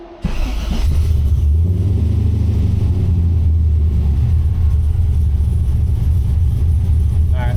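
An LS-swapped Mazda RX7 idles steadily at close range, a deep, continuous low rumble holding an even level throughout.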